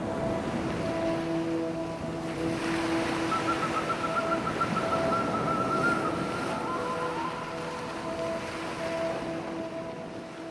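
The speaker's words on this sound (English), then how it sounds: "at a place by the ocean" Ocean surf washes continuously at a seaside spot, a steady broadband rush blended with wind noise and a faint tonal hum, with no voices.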